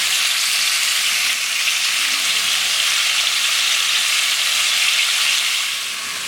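Pork chops for Puerto Rican chuletas guisadas sizzle in a hot pan, a loud, dense, steady frying hiss up close that eases slightly at the very end, with no talking.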